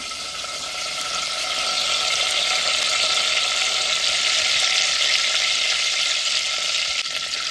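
Curry leaves hitting hot oil for a homemade Marathi mutton curry give a loud, steady hiss and crackle that holds evenly for the full stretch, with no one speaking over it.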